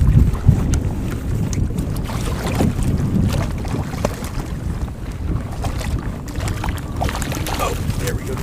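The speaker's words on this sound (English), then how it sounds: "Tricky in this wind." Steady wind buffeting a microphone out on open water while trolling for trout from a boat, a continuous low rushing roar with gusty swells and faint water sounds beneath it.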